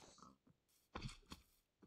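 A pig grunting in the survival game IceCream Survival, a few short rough grunts spread across a quiet moment, fairly faint.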